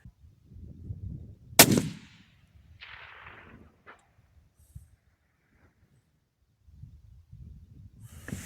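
A single sharp rifle shot from a 6.8 Western cartridge fired at a target outdoors, one loud crack followed by a brief trailing echo, with quiet rustling and faint handling noises before and after.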